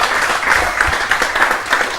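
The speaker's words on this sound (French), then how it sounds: "Applaudissez-le quand même." A crowd at a live show applauds, a dense, steady wash of clapping with a few sharper claps standing out, filling the full two seconds.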